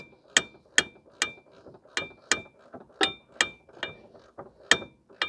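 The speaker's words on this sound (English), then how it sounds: "You can just do and use the wrenches." A wrench ratchets on the lower rearward control arm bolts of a 2013 BMW 535i with a 3.0 L turbo, about a dozen sharp, close metallic clicks in a steady, slightly uneven rhythm, alone without talk.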